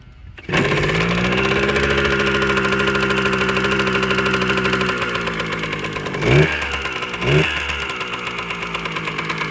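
A Kawasaki KM100 motorcycle engine fires up after sitting in storage, catching suddenly and running at a rough, steady idle with a buzzing tone, then blipping the throttle twice near the end.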